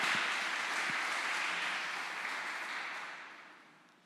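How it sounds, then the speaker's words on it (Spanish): A church congregation applauds during a sermon, a soft, diffuse patter of clapping that holds briefly and then gradually fades away. "Dale un aplauso al Señor."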